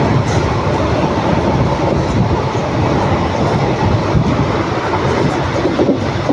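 Express train from Erode to Madurai running at speed through a station without stopping, a loud, steady broadband rumble and rush of wheels on rails with faint clickety-clack, continuous and close throughout.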